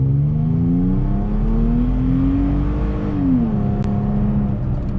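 A 2016 or later third-generation Toyota Tacoma pickup truck engine, running a tune on 91-octane fuel, revs up and accelerates hard from a standstill, its pitch climbing steadily and staying loud and close, with no voices.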